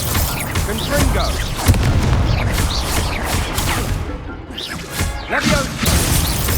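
Confringo spell blasts in Hogwarts Legacy land as repeated booming magical impacts amid crashing debris and spell effects, loud and busy, with a voice calling out spells between them.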